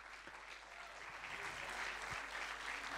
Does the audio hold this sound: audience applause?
yes